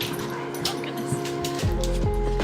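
A dog whimpers and yips indoors in a home, high thin whines rising and falling, then a few short barks and yelps toward the end, fairly close and moderately loud.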